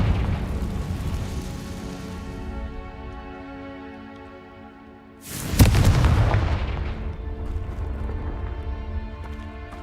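Confringo spell explosion in the Hogwarts Legacy video game: a sudden loud blast partway through with a rumbling decay, set against a sustained tonal musical drone that carries on before and after, with no speech.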